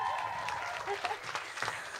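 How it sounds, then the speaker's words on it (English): A short stretch of audience applause at a school theatre event, a soft, dense patter of clapping that sounds somewhat distant and fairly quiet, with some voice mixed in. "Give another round of applause"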